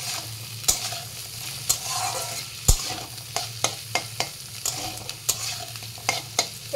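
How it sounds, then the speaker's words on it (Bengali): Vegetables with salt fry and sizzle in a pan while a utensil stirs them, scraping and clacking against the pan in repeated sharp strokes over a steady hiss, close and clear, with no talking. "দিয়ে ভালো করে নেড়ে চেড়ে নিচ্ছি।"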